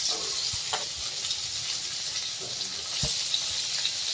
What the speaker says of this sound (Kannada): ಇದನ್ನು ಸ್ವಲ್ಪ ಫ್ರೈ ಮಾಡಿದರೆ ಸಾಕು